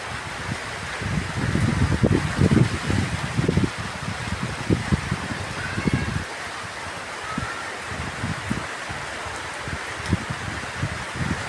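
Strong typhoon wind and rain lash trees, with gusty rushing surges and steady rainfall noise rising and easing in waves, loud and continuous.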